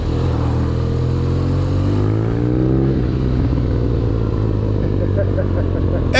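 A motorcycle on road tires ridden on a hot 30-degree day, its engine a steady loud drone with a shifting rev partway through and constant wind rush, a rider talking over it.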